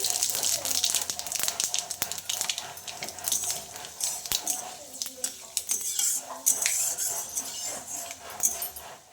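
Bay leaf, a dried red chili and panch phoron dropped into hot oil in a kadai, giving a close, steady crackling sizzle with clinks of a metal spoon against the pan throughout, no voices.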